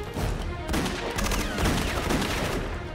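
Rapid machine gun fire from the 1999 film Revelation rattles in dense, continuous bursts, loud and close, with overlapping shots and no talking.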